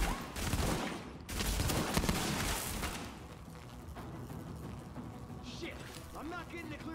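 Bursts of gunfire in a Tom Clancy's The Division firefight, loudest in the first three seconds with dense rattling volleys, then easing into quieter scattered shots and clatter while players talk.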